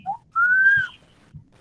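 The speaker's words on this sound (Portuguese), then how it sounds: "Eu posso saber quem tá apitando?" Someone whistling in a classroom during a history lesson: a short low note, then a longer rising pitched whistle, clear and fairly close, with faint room noise.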